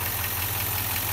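A Land Rover Discovery 3 with the 4.4 petrol V8 idles with a fuel system running rich, giving a smooth, even low-pitched hum that holds steady and close with no other sounds.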